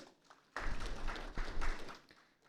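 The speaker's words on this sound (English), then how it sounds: "Can we have a big round of applause for Mr." A crowd claps for a keynote speaker at a corporate digital transformation event, starting abruptly and swelling into steady, fairly loud applause with a couple of surges before tapering off.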